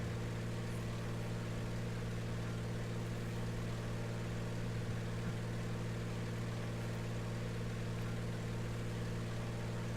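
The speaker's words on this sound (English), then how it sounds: "If you hear the engine change, then we made a difference." A small airplane's engine drones steadily in flight, a constant low harmonic hum with no breaks or change in pitch across the whole stretch.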